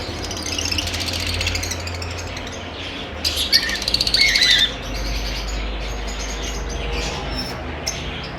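Pet lovebirds in a cage chirp and tweet in a busy, continuous chatter, with a louder burst of sharp calls partway through, heard close by.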